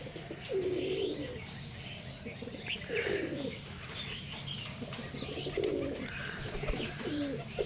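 A male pigeon coos in repeated throaty rolls, several distinct bouts spaced a couple of seconds apart, close by over a low background hum with faint chirps.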